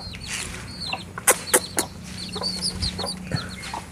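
A hen clucks repeatedly nearby, short rhythmic calls with a few sharper knocks and rustles mixed in.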